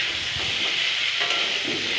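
Potatoes fry in a pan of oil on a gas stove, giving a steady, close hiss and sizzle that runs unbroken for the full two seconds with no voices.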